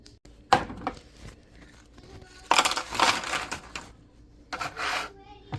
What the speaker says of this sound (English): this is literally how I crush stuff, because mortar, pestle, it works.